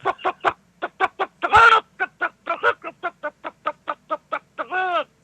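A person imitates chicken clucking with their voice, producing a rapid series of short, sharp clucks in a steady rhythm, broken by a couple of longer squawks, loud and close with no other talk.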